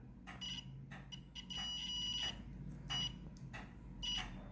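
Continuity beeps from a multimeter with one probe in a red wire nut during repair of an 18V Ryobi stick vacuum cleaner: several short tones repeat in brief bursts over a steady background hum, fairly close.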